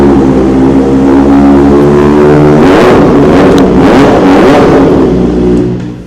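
A Kawasaki ZX4R superbike engine screams close and very loud, rising in pitch through a hard rev, then dipping and climbing again in a sustained high-rpm wail that holds for several seconds before easing off at the end.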